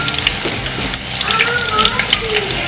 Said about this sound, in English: If you fry twice or thrice, it will become more crispy.